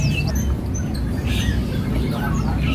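A small cici belalang songbird chirps in short, high tweeting bursts against steady low background hum, with faint scattered calls throughout.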